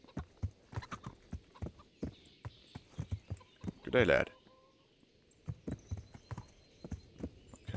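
Steady clip-clop of horse hooves trotting on a path in the medieval video game Kingdom Come: Deliverance, with rhythmic moderately close hoofbeats continuing throughout, pausing briefly while a voice speaks a short greeting.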